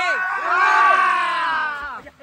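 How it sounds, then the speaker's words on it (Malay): A group of people lets out one spirited collective shout together, loud and close, rising and swelling for about two seconds before breaking off. "Jeritan semangat satu kali."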